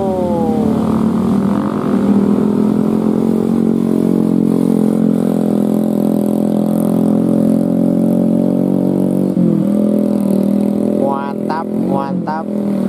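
A motorcycle engine drones steadily up close, its pitch shifting as it revs, with a voice talking over it and brief rising whines near the end.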